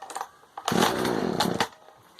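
A chainsaw cuts firewood into 30 to 40 cm lengths, revving from a low idle into a loud, sustained buzzing cut of about a second, then dropping back to idle.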